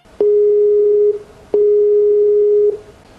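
A loud, steady telephone tone sounds while calling a village library, with two long beeps of about a second each separated by a short gap, heard clearly on its own.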